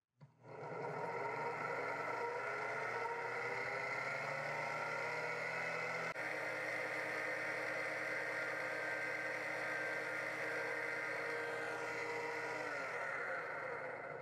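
A small electric motor from a slow mobility wheelchair runs on a test bench with a steady, faint whining hum. It holds one pitch and then winds down near the end.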